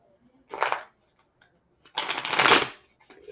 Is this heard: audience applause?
no